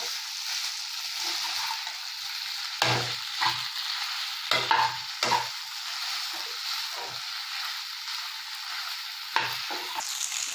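Boiled noodles stir-fried with chilli, salt and spices in a hot pan: a steady high sizzle runs throughout, broken by several dull scraping stirs and knocks of a spatula, with no talking.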